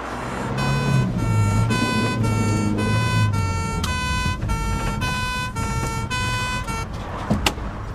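An ambulance siren wails loud and close for about seven seconds in a steady two-tone rhythm as the emergency vehicle arrives at a roadside first-aid scene, with traffic rumble underneath and a sharp knock near the end.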